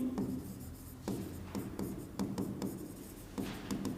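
Chalk or marker scratching on a board during a chemistry lecture, a run of short strokes and taps at close range with no talking over them.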